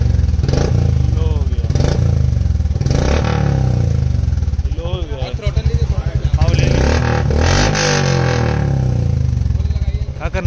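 A Royal Enfield Classic 350 BS6 fitted with a short Punjab exhaust and a cat can thumps and revs loudly up close, with repeated throttle blips rising and falling over a steady thudding idle.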